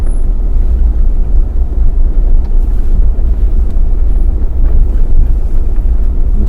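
Cold wind in the Munnar hills at sunrise buffets the microphone in a loud, continuous low rumble with no pauses.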